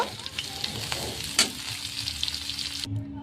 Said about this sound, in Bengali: তো এই দুটোকে মিক্স করে আমি ভালোভাবে সজনে ডাঁটাটাকে ভেজে নেব